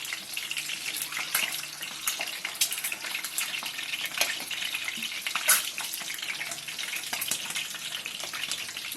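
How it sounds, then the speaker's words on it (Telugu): Peeled boiled eggs frying in oil over a low flame, giving a steady, close crackling sizzle with scattered pops and no talking. "గుడ్లు వేగిపోయినాయి, సన్న మంట మీద వేయించుకోవాలి."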